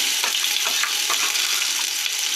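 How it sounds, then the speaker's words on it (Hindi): Onion with ginger garlic paste frying in a pan for chicken tikka biryani: loud, dense continuous sizzling with faint crackles and scraping throughout, no voices. "और इसे हल्का सा हम फ्राई करेंगे"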